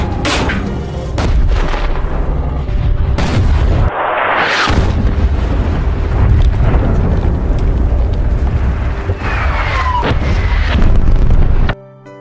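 Heavy artillery bombardment in a war film about elite troops surrounded by ISIS fighters, with loud continuous booming blasts and rumbling impacts layered over a dense battle soundtrack, ending abruptly.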